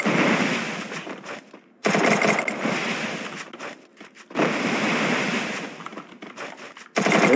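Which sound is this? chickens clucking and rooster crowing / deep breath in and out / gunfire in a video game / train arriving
gunfire in a video game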